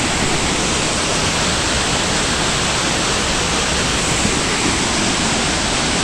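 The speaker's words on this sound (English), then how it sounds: "This is the waterfall we were looking at." Waterfall in the Rocky Mountains of Alberta, a loud, steady broadband roar of falling water that holds constant throughout with no pauses or talk.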